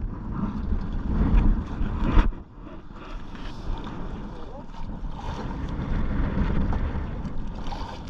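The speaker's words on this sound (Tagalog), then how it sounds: "lakas ng hangin" Strong wind buffets and roars over the microphone in heavy gusts, with a low rumble of water and a boat underneath, out fishing for bonito.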